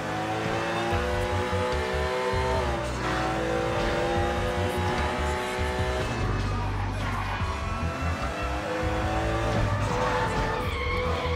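Car chase in the video game Sleeping Dogs, a stolen car engine revving loud and continuous, with tires squealing and skidding under shifting gears and gameplay noise.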